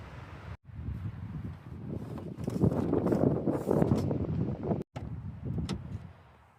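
Gusty wind blows outdoors around a solo camper van parked among trees, a steady, loud broadband rush that swells in the middle and briefly drops out twice.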